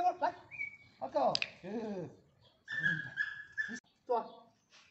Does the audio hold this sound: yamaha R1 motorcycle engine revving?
no